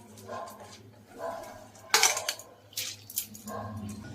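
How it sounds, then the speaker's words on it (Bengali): Washed masoor lentils tipped into a pot of hot water: a brief rattling pour with clinks against the pot, then light clatters of the vessel, close and moderately quiet. "এবার আমি ডালগুলো দিয়ে দিচ্ছি।"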